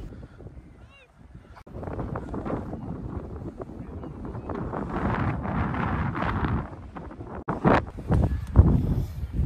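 Wind storm gusting in Plymouth, a broad steady roar of wind buffeting the microphone with louder bursts toward the end.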